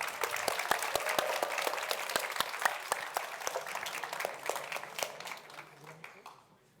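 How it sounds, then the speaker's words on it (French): An audience at a festival opening ceremony applauds, with many sharp individual claps in a lively, fairly close burst that thins out and fades toward the end, with voices heard along with the clapping. "on applaudit bien fort Bérénice et Constance"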